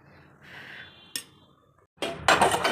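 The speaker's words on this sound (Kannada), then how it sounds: "ಎಷ್ಟು ಪಾತ್ರೆ ಇದೆ ಫ್ರೆಂಡ್ಸ್ ತೊಳಿಯೋದಕ್ಕೆ" Dishes and pots clattering in a home kitchen, with a faint clink early and then a burst of loud, close metallic rattling and scraping toward the end.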